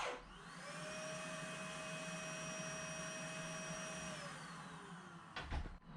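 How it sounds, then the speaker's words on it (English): A dust extraction vacuum attached to a cordless XGT track saw cutting marine ply sheeting runs loud and steady with a whining tone, then winds down near the end before a few brief knocks. "I've got the XGT track saw, and I've also got a vacuum attached to that."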